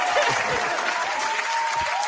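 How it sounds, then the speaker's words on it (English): Canned applause sound effect played on a podcast, a steady crowd-clapping wash with a thin whistle-like tone running through it, loud and unbroken over its short length. "where the applause thing at?"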